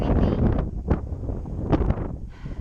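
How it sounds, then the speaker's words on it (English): Gusty wind buffets the microphone in loud, rumbling waves with a couple of sharper rushes; no voices. "It is really windy."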